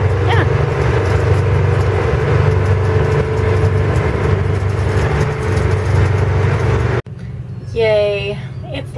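Potato truck engine droning loud and steady while driving on a sandy farm, a deep low hum throughout, then an abrupt cut at about seven seconds leaving a quieter rumble with a brief voice over it.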